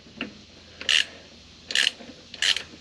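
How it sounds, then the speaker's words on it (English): Three short ratcheting bursts from a ratchet with a 9/16 socket loosening the drain plug on an Onan 4000 generator, close up and evenly spaced, with faint handling noise between strokes. "this is a 9/16 socket that I'll be using to remove the drain plug."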